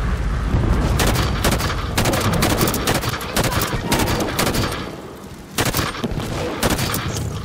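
Gunfire in Halo 5: Guardians, loud dense volleys of automatic fire and blasts rolling almost continuously, close and heavy, with faint speech in places.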